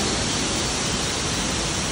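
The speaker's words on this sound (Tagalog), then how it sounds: "May waterfall." Water rushes in a steady, dense, hissing roar from a waterfall near a stone cave, constant throughout with no other sounds.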